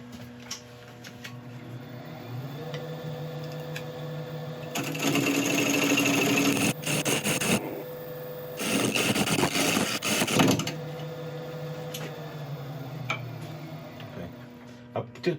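Woodturning lathe spinning a wood burl while a tenon is cut, a steady mechanical hum with two louder, rougher stretches of tool cutting and shaving the wood, then back to the running motor.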